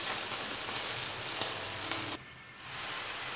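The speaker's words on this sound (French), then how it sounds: "Un peu d'huile d'olive et je fais dorer les noix de Saint-Jacques environ 5" Scallops searing in olive oil in a pan, a steady crackling sizzle that drops suddenly in loudness partway through before slowly building back.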